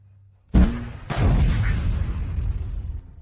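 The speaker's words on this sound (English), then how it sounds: "Fire the cannon." A cannon fires twice in quick succession, each a loud close boom followed by a long rumbling decay that trails off slowly.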